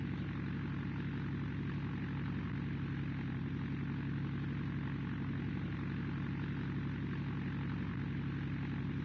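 A large airliner lands in the Roblox flight game PTFS, a steady loud engine and propeller drone holding at an even level with no talk over it.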